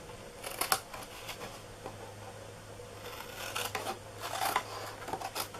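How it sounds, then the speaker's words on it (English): Scissors snipping a square corner out of a paperboard cupcake box, soft close cuts and rustling paper in short bursts, quiet and without voices. "And while you are cutting that little corner off, go all the way down to loosen up that flap."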